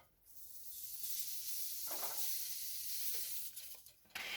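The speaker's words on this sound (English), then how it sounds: "You'll hear it sizzle." A loud, steady sizzle of nopales frying in a hot pan, bright hissing that swells and continues, with a brief clatter near the end.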